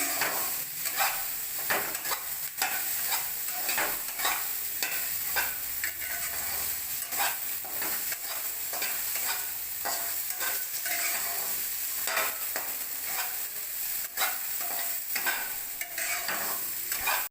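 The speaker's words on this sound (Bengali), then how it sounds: "সবজিগুলো ভালো করে ভেজে নিচ্ছি। আর সাথে দুটো তেজপাতাও দিয়ে দিয়েছি।" Beans, carrots and peas with bay leaves fry and get stirred in a pan, a steady sizzle broken by repeated scraping stirs at an irregular rhythm, close and with no voices.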